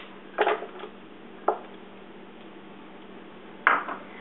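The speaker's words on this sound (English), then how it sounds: "then we're going to toss in the onions" Chopped onions tossed into a pan of peppers and tomatoes: three short, soft clattering thumps of food and utensil against the pan, spaced apart with quiet between them.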